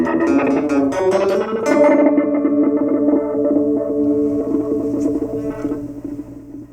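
An electric guitar plays a quick run of notes through a noise-gated reverb on an Empress Reverb pedal, leaving a loud, shimmering tail that chops off sharply at the end; no voices.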